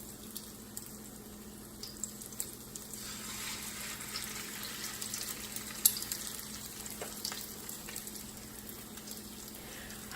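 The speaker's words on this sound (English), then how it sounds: "How many of you guys love it when you hear like the frying sound when you're frying food?" Crab cakes fry in sunflower oil in a pan, giving a steady, moderate sizzle and crackle with occasional louder pops, heard close up and without talking.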